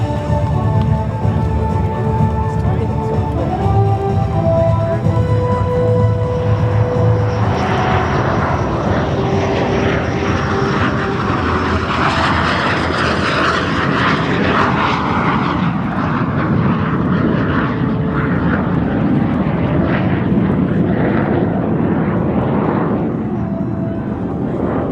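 A T-33 Shooting Star jet makes a slow, low pass with flaps and wheels down at the Aerospace Valley Airshow. Its engine is a loud, steady roar that swells midway through and then holds until the end, with no talking.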